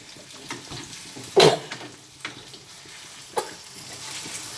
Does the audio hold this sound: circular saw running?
no